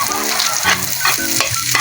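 Garlic and onion for Filipino ginisang baka sauté in a pan, a steady bright sizzle with the scrape and clatter of stirring breaking in every half second or so, close and continuous.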